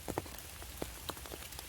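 Heavy autumn rain pours in a mushroom field, a constant wet hiss broken by sharp, close drips and splats hitting a nearby surface at irregular moments.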